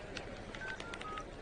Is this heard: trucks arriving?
no